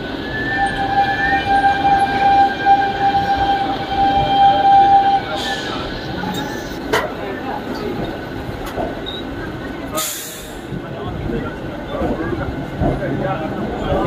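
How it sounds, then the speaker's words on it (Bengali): A train pulling into Kharagpur Junction station, heard from inside a carriage by the window: rumbling rail noise with a sustained high horn or whistle tone early on and sharp clanks, while people talk nearby. "খড়গপুর জংশনে জাস্ট ট্রেনটা ঢুকলো"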